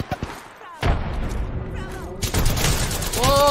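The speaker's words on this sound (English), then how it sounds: "Listen up, I'm getting shot at." Gunfire in the Apex Legends battle royale game, with rapid sharp bursts and thuds, first sparse and then dense and sustained, mixed with explosions and a voice talking over the fight.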